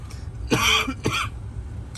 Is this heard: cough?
yes